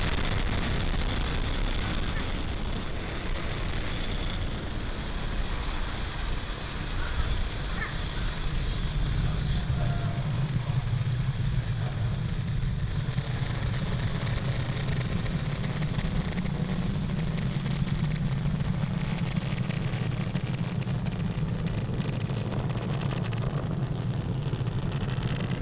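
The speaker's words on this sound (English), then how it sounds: "Falcon 9 has cleared the tower, lifted off from Cape Canaveral" Deep, sustained roar of a SpaceX Falcon 9 rocket lifting off from Cape Canaveral, heard from a distance as a steady rumble that thickens and grows heavier partway through, with wind buffeting the microphone.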